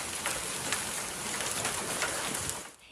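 Large hail hits surfaces in Bandera during a severe thunderstorm, a dense, even clatter with sharp impacts scattered through it that cuts off just before the end.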